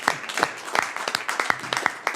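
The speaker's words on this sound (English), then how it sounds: "Not enough applause for the record." Sparse applause from a small group, a handful of scattered claps with uneven rhythm over about two seconds, fairly close and moderately loud, no talking.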